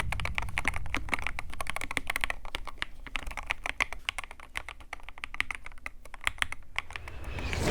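Keys clatter on an inexpensive 35-euro computer keyboard in quick, uneven bursts of close, crisp clicks with short pauses, and no voices are present.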